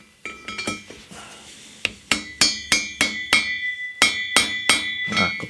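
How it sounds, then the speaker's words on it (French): A small mallet taps a 15 mm socket on an extension seating cylinder head bolts, a dozen or so bright metallic clinks with ringing tails, close and loud, coming in quick pairs and then steadier strikes. "Petite rallonge. Un petit maillet."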